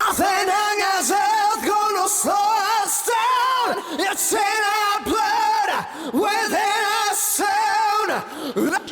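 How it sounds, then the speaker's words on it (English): Rock vocals in a big, bombastic song drenched in a massive delay, each sung phrase smearing into repeating echoes that trail under the next line over loud full-band backing. "I put on an absolutely monumental delay"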